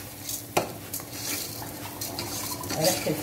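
Peppers and rice with spices stirred in a pan: a quiet sizzle under scraping utensil strokes, with a sharp clack near the start and irregular stirring scrapes throughout.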